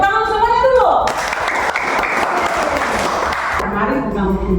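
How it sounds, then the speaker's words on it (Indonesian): Audience in a classroom or church-style gathering bursts into applause after a call to clap, a dense burst of hand claps lasting a few seconds between stretches of talk. "Tepuk tangan semuanya dulu"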